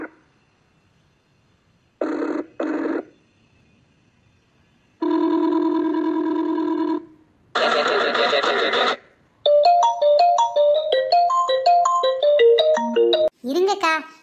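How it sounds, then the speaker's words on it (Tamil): A mobile phone ringtone sounds loudly. Short bursts and sustained buzzy tones, including a horse-whinny-like effect, lead into a fast melodic jingle of bright repeated notes. "இருங்கக்கா, என் மொபைல் ரிங் அடிக்கி"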